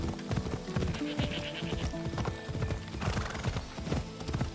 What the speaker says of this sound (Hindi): चल घोड़े।